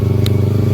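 A brief, close motorcycle engine hums steadily at a low, even pitch, with a single small clatter partway through.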